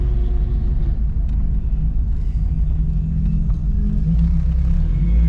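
A Peugeot 205 fitted with a C20XE engine runs at an easy pace on a race circuit. Its engine gives a steady, close, low rumble with no spoken voices.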